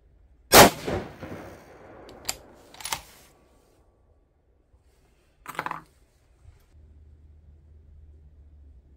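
A 6.5 PRC rifle fires a single 130-grain ELD-M handload over H4831SC powder: one loud, sharp report close by, a rolling echo that fades, then a few faint knocks and a low steady hum.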